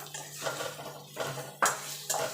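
Tomato, ginger and garlic being fried together in a pan for spinach and prawn curry, quiet sizzling broken by a few sharp clinks and scrapes of a spoon against the pan, close by with no voices.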